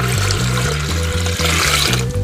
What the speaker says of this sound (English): And I'm gonna add 5 more cups of remaining water.